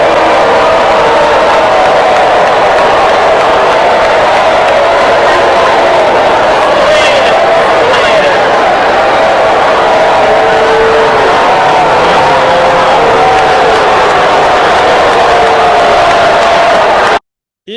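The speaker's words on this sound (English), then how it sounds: "You can hear the boos" A large crowd at a Kamala Harris rally lets out sustained, swelling vocal noise from a distance, a dense roar of voices that holds steady throughout, booing mixed into the general babble.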